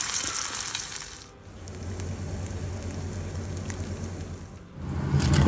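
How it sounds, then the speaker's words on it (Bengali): Batter-coated paneer cubes frying in hot oil, a continuous crackling sizzle that dips briefly, then returns and swells louder near the end, with no talking. "এবার তেলে পনিরগুলো হালকা ভেজে নেব।"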